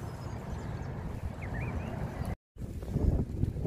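Low rumbling wind buffets the microphone outdoors at a bream fishing spot, steady and blustery with a brief cutout partway through.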